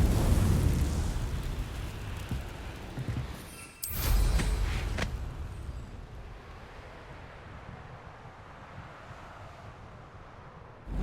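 A Confringo blasting spell goes off in Hogwarts Legacy as one sharp, loud explosive burst, followed by a long rumbling, windy roar that slowly fades.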